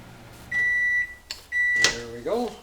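A microwave oven heating a cup of milk hums steadily, with two drawn-out electronic beeps at an even pitch, then clattering handling and a rising tonal squeak near the end.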